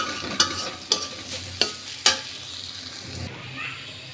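Chopped onion frying in a pan, a low steady sizzle punctuated by four sharp scrapes of a spoon stirring at regular intervals, close and with no voices.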